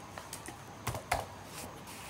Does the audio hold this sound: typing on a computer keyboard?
yes